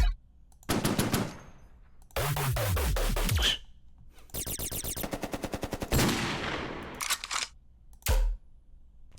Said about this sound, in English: What was like a gun rattling?